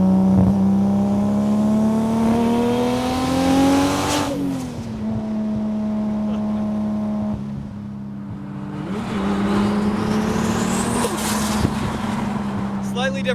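Nissan Skyline R32 GTR with a heavily built engine, droning loudly throughout, its pitch climbing gradually and dropping back at a gear change before rising again, with speech faintly underneath.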